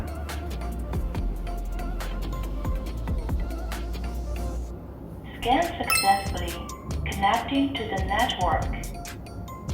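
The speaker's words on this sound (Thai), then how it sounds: "ถ้าได้ยินเสียงแบบนี้นะครับ คือเชื่อมต่อสำเร็จนะครับ" A low-cost 3-megapixel pan-tilt smart camera sounds a short electronic chime and melodic tones when it connects to 2.4 GHz home Wi-Fi. The tones come after a steady hum, and a voice is present alongside them.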